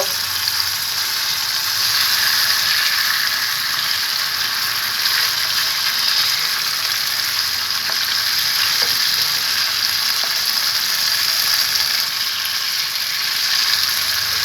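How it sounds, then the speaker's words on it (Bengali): Pangas fish frying in hot oil in a pan as the pieces are flipped, a steady dense sizzle with faint scraping and clicking of the utensil, close and continuous. "এবার আমি মাছগুলোকে উল্টিয়ে দিব"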